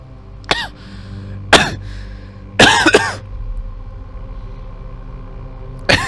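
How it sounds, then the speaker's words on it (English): A person coughing and clearing their throat in a few sharp bursts, with quiet gaps between them. "I'm just coughing because I was doing that voice for too long"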